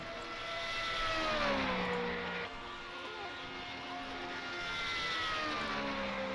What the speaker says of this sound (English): on the corner, smoking those left side tyres under the Dunlop Bridge